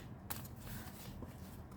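A Rider-Waite-Smith tarot deck with good card stock is shuffled, a faint close riffle and a few soft card flicks, quiet and brief.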